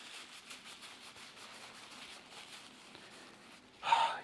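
Soft rustling and rubbing as Wendy's and Dairy Queen paper napkins are handled, a faint steady crinkle throughout, ending in a brief louder scrunch.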